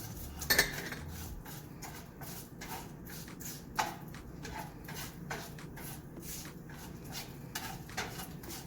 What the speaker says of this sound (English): So just make sure you're continuously stirring it up